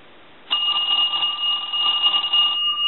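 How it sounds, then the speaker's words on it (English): A Western Electric Trim Line telephone bell rings in one continuous metallic trill for about two seconds, then stops abruptly. "And we'll go ahead and ring the telephone."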